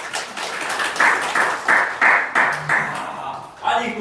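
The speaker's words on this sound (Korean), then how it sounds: "여러분 큰 박수로 환영해 주십시오." A church congregation claps in applause to welcome a youth drama skit at an Easter service, a steady burst of handclaps, rhythmic in places, fading near the end as a voice begins to speak.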